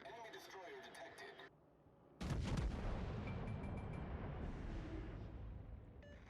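Naval artillery fire in the World of Warships: Legends naval combat game: a loud, sustained barrage of booming cannon blasts that suddenly erupts after a brief lull, with game voice callouts over the noise.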